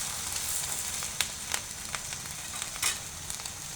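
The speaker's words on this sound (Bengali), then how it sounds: "হালকা একটু ভেজে নেব। তারপর আমি বাকি সবজিগুলো দিয়ে দেব।" Onion and green chili frying in a pan for vegetable noodles, a soft steady sizzle with a few sharper crackles and pops scattered through, quiet and close, with no talk.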